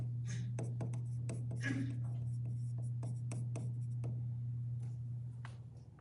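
Pen strokes scratch across paper as intercept coordinates are written by hand, a series of short, close scribbling bursts over a steady low hum, gradually fading at the end.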